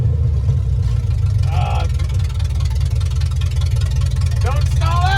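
A 1974 Ford F-250 with a custom 360 big block engine idles after startup, a steady deep rumble running throughout while voices briefly call out over it.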